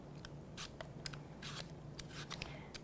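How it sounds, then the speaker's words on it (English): Scraping, rasping strokes of a peeler working around a Fuji apple, repeated in short uneven passes, close and soft with no talking. "and then you're gonna peel it"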